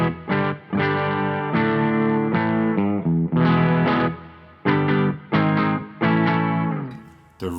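A Rivolta Mondata electric guitar on its bridge pickup plays chords and riffs through a Fender amp with reverb, notes ringing in distinct bursts with short gaps between phrases.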